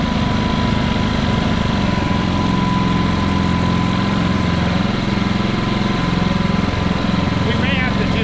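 A Ryobi 3400W inverter generator runs steadily close by with its auto idle switched off, giving a continuous even engine drone. A voice talks over it.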